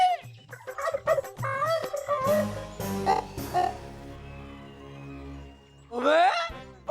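A hen clucks and gurgles in short, strained bursts with irregular pauses, close and fairly loud, ending in a rising squawk.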